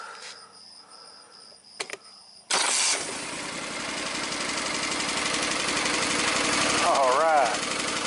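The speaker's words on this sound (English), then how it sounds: "Running on both cylinders now." A Kohler Command twin-cylinder engine, just reassembled after diagnosis, cranks and fires abruptly, then settles into a steady, loud idle running on both cylinders, with a faint light tapping and a few bird chirps in the background.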